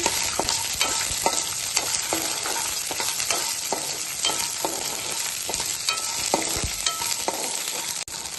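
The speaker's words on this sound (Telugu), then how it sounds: "పల్లీలు వేగాక 2 పచ్చిమిర్చి కట్ చేసుకుని వేసుకోవాలి" Peanuts and cut green chillies frying in a pan for Mysore bonda: a continuous close sizzle punctuated by regular scraping stir strokes, with a sharp knock near the end.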